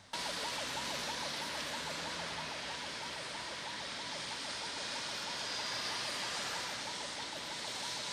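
An ambulance siren wails, cycling rapidly and continuously amid dense traffic noise and rushing engine sound in a long rainy-season traffic jam on the Adjamé-Indénié road in Abidjan, loud throughout.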